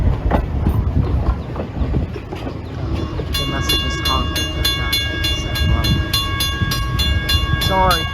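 A Strasburg Railroad train rumbles past close by with rolling wheel noise, then a repeated rhythmic clicking from the cars takes over. A voice speaks briefly over it.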